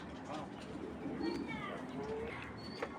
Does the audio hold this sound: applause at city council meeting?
no